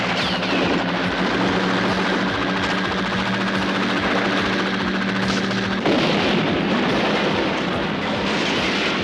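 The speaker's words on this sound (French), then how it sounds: "Feu sur les hélicos!" Military helicopters under gunfire in a French action war film: a loud, steady rhythmic thudding of rotors mixed with rapid bursts of gunfire throughout, and no talking.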